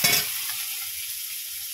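Fish fries in hot oil, giving a steady close sizzling hiss that is loudest at the start and then settles into a softer, even crackle, with no voices.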